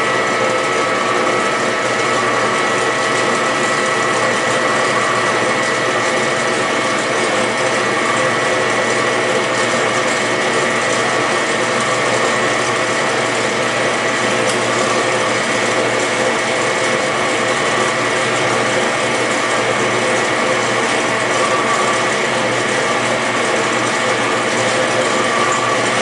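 A Marvel power hacksaw runs at high speed with a steady, loud mechanical whir and dense ratcheting clatter that stays even and unbroken from start to finish.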